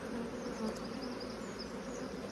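Honey bees hum around an open, strong beehive in a dense, steady buzz of many insects. It is soft and even, heard alone with no talk.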